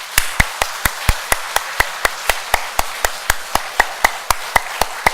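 A church congregation claps together during an afternoon worship service, sharp, regular strikes at a steady quick rhythm, clear and evenly spaced with no talking over them.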